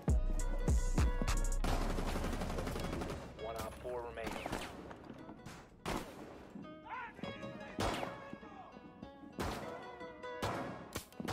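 Gunfire in Rainbow Six Siege, several sharp bursts and crashing shots scattered across the stretch, loud and close, mixed with game music and effects.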